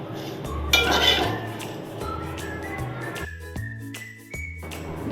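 Dried gongura leaves are lightly roasted in a pan until crisp, with a utensil stirring and clinking against the metal in an uneven rattle that continues throughout.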